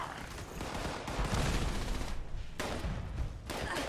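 Gunfire in the video game Fallout 76, dense sustained bursts of rapid shots that fill the clip at a fairly constant loudness, with a brief dip before the firing resumes.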